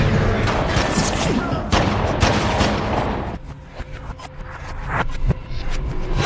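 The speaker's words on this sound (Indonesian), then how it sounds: "Mulai terjadi aksi tembak-menembak di antara mereka berdua." Rapid gunfire exchange in an action film, dense bursts of shots and sharp cracks overlapping loudly for the first half, then thinning into scattered single shots and thuds over a quieter background.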